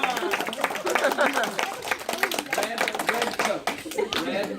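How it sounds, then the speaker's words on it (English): A children's class in an elementary school claps for a classmate, with a steady patter of small hands under a busy background of young voices. "Round of applause for him, everyone."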